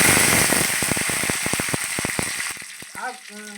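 Curry leaves crackle and spit in hot oil during a tempering of mustard seeds and urad dal for a greens sambar. Rapid sharp pops ride over a steady hiss, then thin out, and a voice briefly speaks at the end.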